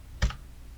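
A single computer keyboard key press during video editing work, one short, soft click up close against faint background hiss.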